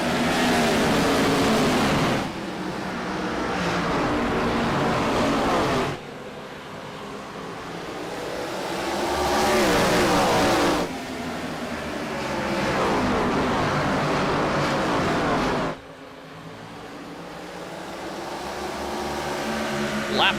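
Gen 4 Cup Series race cars with over 800 horsepower roar past at Irwindale in loud surging waves, engine noise swelling and dropping repeatedly under continuous race commentary.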